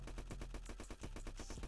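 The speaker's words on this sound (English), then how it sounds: "We shooting dude through the fence." Rapid gunfire in a Roblox hood shooter game, a fast run of evenly spaced shots in a burst lasting under two seconds, with no talk.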